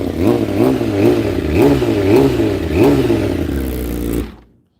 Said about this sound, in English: We're doing cold starts on the M1000. It's warm enough for me to give it a couple revs.